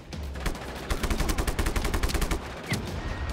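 Rapid automatic gunfire in the video game Just Cause 3, a loud, close, sustained burst of shots firing in quick succession with a brief pause near the end.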